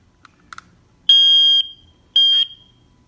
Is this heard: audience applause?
no